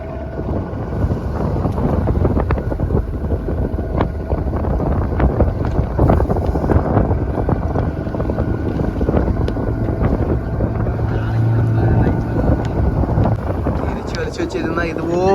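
A fishing boat from Idinthakarai runs its engine at sea while hauling nets: a steady, close motor drone mixed with wind buffeting the microphone, with voices talking over it.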